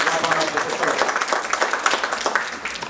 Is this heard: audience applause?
yes